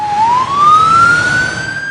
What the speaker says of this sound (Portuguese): Um som pode ser bem longo, como a sirene de uma ambulância